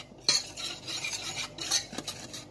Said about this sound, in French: Vous mettez tous les ingrédients ensemble, vous mélangez à sec, voilà, dans une casserole.